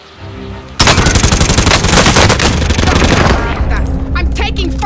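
Loud, rapid automatic gunfire in Call of Duty: Modern Warfare erupts abruptly and rattles on steadily for several seconds, close and dominant, easing slightly at the end.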